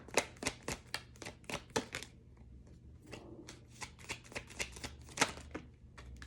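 Tarot cards shuffled and flicked onto a table, a quick run of crisp riffling snaps and slaps with brief pauses, close and fairly quiet, no talking.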